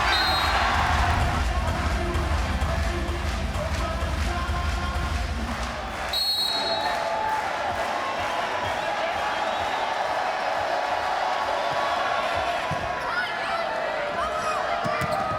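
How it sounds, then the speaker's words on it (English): A loud, packed arena crowd roars and cheers without letup at a Texas vs Marquette women's volleyball regional semifinal, with a brief dip partway through before the noise surges again. "the crowd goes wild"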